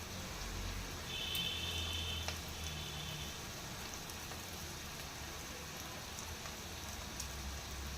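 Noodles and vegetables sizzle in a pan for a street-style noodle dish, a steady close hiss and crackle that runs on its own, with no talk over it.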